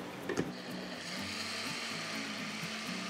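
Cumin, salt and a little water for chicken picadillo whir in a small grinder, a steady low mechanical buzz lasting a few seconds after a brief clatter at the start.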